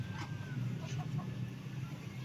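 Fighting rooster clucking softly in short low bursts, close by, over a steady background hum.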